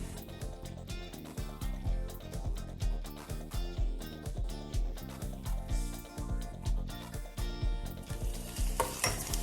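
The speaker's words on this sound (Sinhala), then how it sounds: "සුදු ලුණු ටිකක් රන්වන් පාට වෙනකන් මේක හොඳට ෆ්‍රයි කරගෙන" Garlic and red onions fry in a pan, a steady crackling sizzle with frequent scrapes and stirs running throughout, close and fairly loud with no voices.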